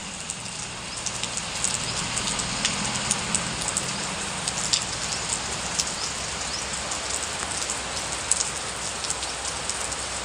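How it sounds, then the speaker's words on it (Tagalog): Steady rain falling throughout, a dense even hiss of drops with scattered louder drips, close and continuous with no voices. "maulan."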